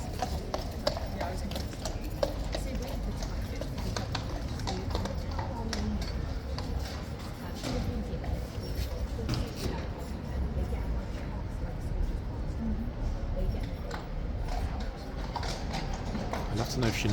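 Horse hooves clip-clop steadily on pavement at Horse Guards in London, a continuous rhythmic clatter mixed with crowd murmur and nearby voices.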